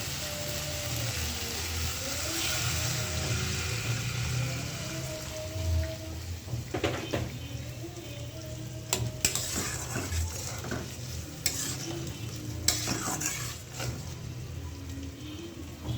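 Goat meat curry, cooked with little oil and spice, has water added in the pan and is stirred; steady sizzling runs under repeated scrapes and metal clinks of a spoon against the pan, close by with no talking.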